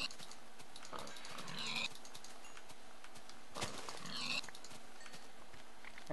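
Pigs in the Minecraft video game give two short grunting bursts a few seconds apart over quiet background sound.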